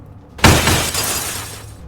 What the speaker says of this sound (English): I found a glass breaking sound effect for the